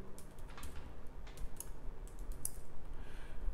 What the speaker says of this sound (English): Let me quickly type it in.